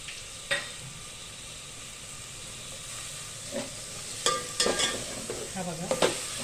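Green peas sautéing in a little oil in a pan for wedding-style masale bhaat, with a soft constant sizzle and several scraping stirs that grow busier toward the end.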